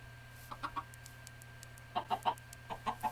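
Chickens in the Minecraft video game give short, soft clucks in small clusters over a faint steady background hum.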